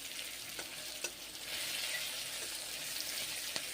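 Pointed gourd (potol) slices frying in oil in a pan, a steady close sizzle with a few light clicks and stirring scrapes, no voices.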